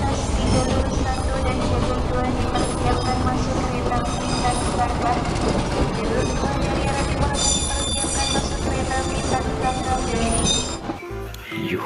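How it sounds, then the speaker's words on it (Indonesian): A train with cargo wagons passes close by, a steady loud rolling rumble with clanking and metallic squeals, dropping away sharply at the end. "Gerbong kargo juga ada."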